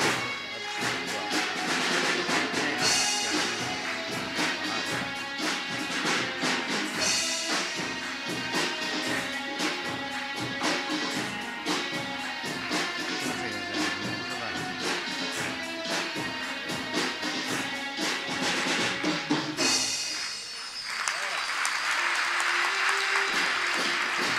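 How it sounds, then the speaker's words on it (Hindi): Loud, dense clapping from a crowd of children fills the whole stretch, sustained and continuous with a brief dip near the end before resuming, at a government school event in Delhi. "बच्चे भी तेज तालियां।"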